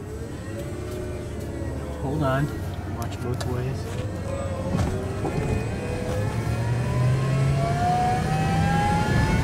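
An all-electric truck's motor whines as it drives in reverse, a rising tone running steadily under a person speaking nearby.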